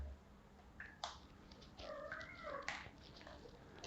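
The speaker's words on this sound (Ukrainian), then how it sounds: "Кицька прибіжала в гості." A visiting cat gives a few drawn-out, wavering meows and chirps in a workshop garage bay, moderately close but soft, with quiet room noise and no talking.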